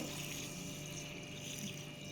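Faint steady running water with a low pump-like hum as rice is washed, continuous and unbroken, no voices.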